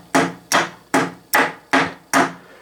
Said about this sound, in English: strike the T-handle, which I will do